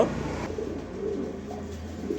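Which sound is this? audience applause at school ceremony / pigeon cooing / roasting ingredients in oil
pigeon cooing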